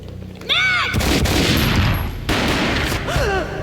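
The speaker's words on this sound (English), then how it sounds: "A gunshot boomed and she fell down in slow motion." Gunfire in the 2001 shooter Max Payne: a loud, dense burst of shots erupts and carries on, then a second burst follows, with brief voice-like cries before and after.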